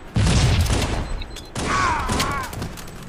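Grenade blast and pistol shots in a first-person shooter video game, a dense loud burst of explosive gunfire that pauses briefly and then resumes, with game sound effects mixed in.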